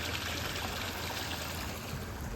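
Water flows steadily in a stream, a continuous rushing wash with no breaks. It is faint overall and no talk is heard over it.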